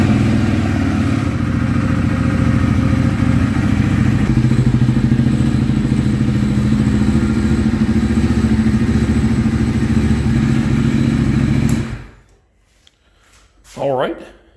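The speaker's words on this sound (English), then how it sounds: "Now I'm gonna go ahead and start the engine and let it run for a minute or so" KTM 390 Duke single-cylinder engine running right after an oil change, idling loudly and steadily close by for about twelve seconds before it cuts off, followed by a short voice in the quiet.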